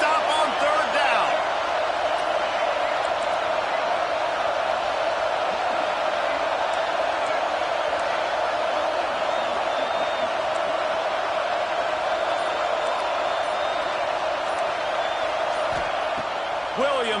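A stadium crowd in the NCAA 26 college football game, Auburn versus Washington, roars in a steady, loud wash that holds for the whole stretch, with a commentator's voice talking over it.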